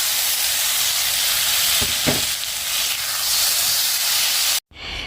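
A ground spice paste of chili, cumin, onion and garlic fries in a pan with a loud, constant hissing sizzle and a couple of stirring scrapes, then cuts off briefly near the end; nobody speaks.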